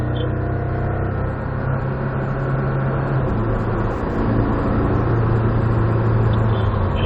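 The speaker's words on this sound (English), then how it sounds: "Squeezing back on that throttle like a volume knob" Race car engine under throttle heard from the cockpit, a loud, steady droning roar whose pitch holds, dips briefly, then climbs gradually as the driver squeezes on the power.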